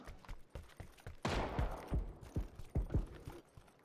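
Gunfire in PUBG, a sharp loud report followed by a series of separate, punchy shots at irregular intervals, each with a short decaying echo.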